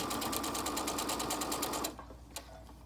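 A serger sewing machine stitches a fabric face mask with a steady, rapid mechanical whir that runs close and loud, then stops abruptly and leaves near silence with a faint click.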